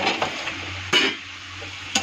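Papaya pieces are stirred into soybean bhaji frying in a pan, with a soft steady sizzle broken by a few sharp scrapes and clinks of a utensil against the pan.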